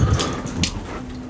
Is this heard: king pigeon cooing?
no